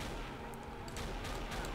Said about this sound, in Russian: Там вроде еще происходит какая-то стрельба.